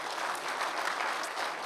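Steady, full applause from a church congregation during a dedication and founding service, a continuous dense patter of many hands at even loudness.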